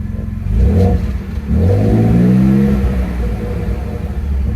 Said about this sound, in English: We'll give it a little rasp with give it a little gas here and see what happens.